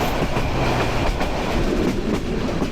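The Kishoreganj Express intercity train from Dhaka to Kishoreganj runs along the tracks with a steady, close rumble and rhythmic clickety-clack of wheels, continuous throughout with no voices.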